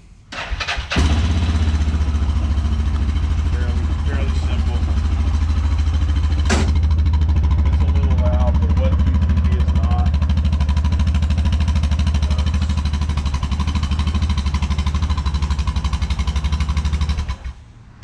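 A Hisun Axis 500 4x4 UTV engine cranks briefly and catches, then settles into a loud, steady, low idle that rumbles close by for about sixteen seconds before cutting off.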